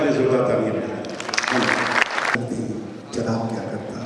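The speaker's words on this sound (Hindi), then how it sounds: "मैं चाहता हूँ इस संस्था के लिए जोरदार तालियां मिलें।" Applause from the audience at a poetry gathering breaks out in the middle, loud and dense for about a second, with someone talking before and after it.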